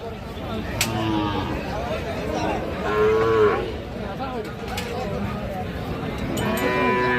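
Cattle at a livestock market where Sahiwal bull calves are sold low repeatedly and fairly close, with people talking and bargaining around them throughout.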